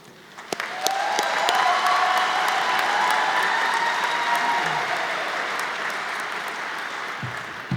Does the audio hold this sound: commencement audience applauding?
yes